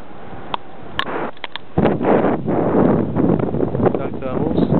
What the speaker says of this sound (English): Quite a strong wind.